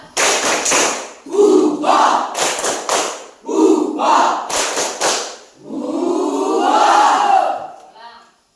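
A seated group claps the Indonesian 'tepuk semangat' spirit clap in quick, loud bursts of rhythmic patterns with short pauses, ending in a unison shout, all close and energetic.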